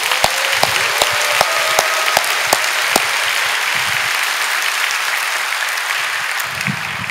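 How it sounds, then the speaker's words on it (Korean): Church congregation applauding the university student group during a Friday night worship service, a loud sustained round of clapping with several crisp, close individual claps early on before settling into an even roar. "우리 오늘 대학부를 위해서 박수 한번 칩시다."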